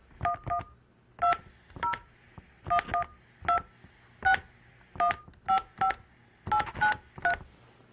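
Telephone keypad dialing tones, a steady series of about fifteen short, clean beeps in quick, slightly uneven succession, close and isolated against near silence.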